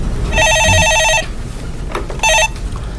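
A telephone on a call-in show rings with a loud electronic trill, one long burst followed by a shorter second ring.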